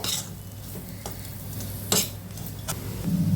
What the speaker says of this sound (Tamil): இப்போ இதை இதிலையே கொஞ்சம் நல்லா வதக்கிக்கிங்க